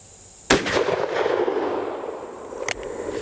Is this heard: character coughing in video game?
no